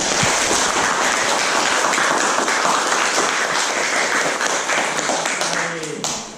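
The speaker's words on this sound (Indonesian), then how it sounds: "Tepuk tangan untuk kita semua" A classroom of students applauds together, a steady wash of clapping that holds for about six seconds before tapering off, with some voices faintly mixed in.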